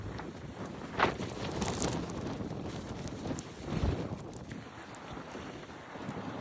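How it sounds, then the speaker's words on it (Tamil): Strong wind gusting and roaring through a Toronto snowstorm, a steady broadband rush with buffeting on the microphone and sharper gusts swelling throughout, no talking. "சரியான காத்து"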